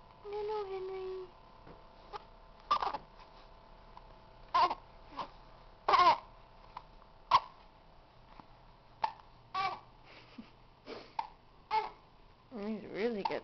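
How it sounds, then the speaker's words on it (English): A three-week-old baby boy in a bouncy chair hiccups repeatedly, with short sharp bursts spaced a second or two apart, close and clear, while an adult talks softly between them. "He's really got the hiccups."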